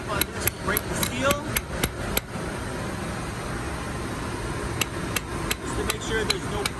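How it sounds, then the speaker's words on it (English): Metal hammer tapping on an automotive EPR sport valve to break its seal, a series of sharp clicks in quick bursts, first a rapid cluster then a pause and another run of taps, over a steady background hum. "So I need to tap on this to break the seal."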